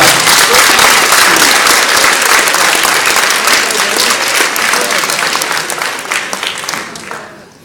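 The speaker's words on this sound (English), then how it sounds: "they're going to clap their hands really hard for you" Hard, loud applause from a hypnotism show audience fills the whole stretch as a dense, continuous wash of clapping, easing off near the end.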